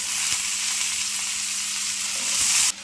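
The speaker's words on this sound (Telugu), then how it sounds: "పప్పులు గట్ట వేగిపోయిన తర్వాత ఇప్పుడు దీంట్లోకి పొటాటోస్ని యాడ్ చేద్దాం." Potatoes going into a pan of sizzling fried chana dal, giving a loud, steady close-up sizzle of hot oil that swells briefly before cutting off.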